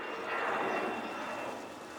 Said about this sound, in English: Sorry about the aeroplane noise.